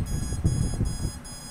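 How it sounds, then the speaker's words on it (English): Electronic speed controller on an FTC Hunter 680mm drone playing its short calibration beep tune, a quick series of bright pulsing tones over a low hum, brief and close. "you heard the music from the ESC that indicates that you have successfully calibrated your ESC"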